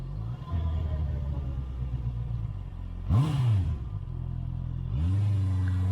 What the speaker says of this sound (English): but now we hear engine sound.